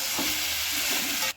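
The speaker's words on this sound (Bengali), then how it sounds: "ভাজা আলুগুলো দিয়ে ভালো করে কষিয়ে নেব।" Jackfruit and fried potatoes stir-fried with spices in a pan for a prawn dish, giving a steady close sizzle with soft scraping stirs throughout, cutting off abruptly at the end.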